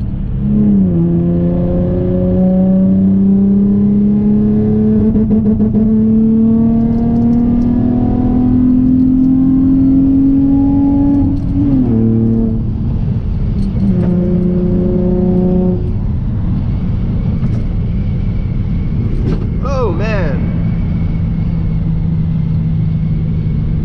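Tuned Infiniti G35 coupe engine pulls hard in fourth gear, a loud rising drone climbing steadily in pitch, dropping briefly at shifts and rising again, heard up close from inside the car with no talking.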